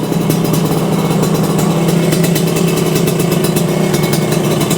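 A Yamaha RX125 motorcycle engine idles steadily nearby, a constant rumbling putter with a fast, even pulse and no voices.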